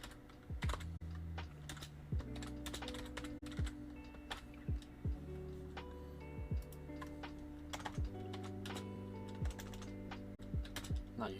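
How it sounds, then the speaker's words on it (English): Someone types on a computer keyboard with caps lock on, producing a close, brisk run of clacking keystrokes with occasional louder key hits over a low, steady tonal hum. "Not used to typing with caps lock on."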